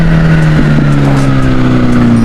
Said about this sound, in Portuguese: Vamos apreciar aí um ronco de um 4 cilindros aí, 1000 cilindradas.